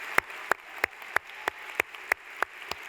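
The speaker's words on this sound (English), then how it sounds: "I invite you to give him a very warm round of applause." Slow, evenly spaced claps, about three per second, sound at a human rights plenary session, a thin sparse applause with crisp individual hits and no voices.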